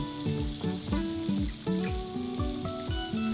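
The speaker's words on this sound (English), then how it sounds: "Gently place the rolls onto the pan with the opening face down." Beef rolls wrapped around enoki mushrooms sizzle steadily in an oiled pan over medium-high heat, a continuous close frying crackle with light clinks and soft background music.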